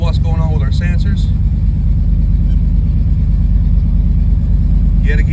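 Car engine idling steadily after an ACES Killshot EFI install, a loud continuous low rumble throughout with someone talking over it at the start.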